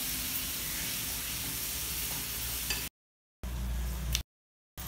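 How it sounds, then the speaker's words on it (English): Chopped tomatoes fry in a pan with a steady, close sizzling hiss, broken by two brief silent gaps. "fry this also very well till the tomatoes become quite soft."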